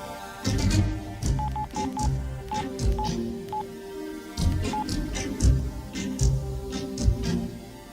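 A phone keypad being dialed in a Telugu film scene, a quick run of short button tones over a loud music score, with no talk.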